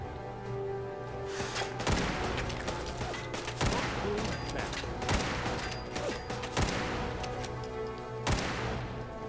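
Gunfire at an enemy in Fallout 4, Far Harbor DLC: a series of sharp, separate shots spaced about a second or two apart, moderately loud over a steady background hum.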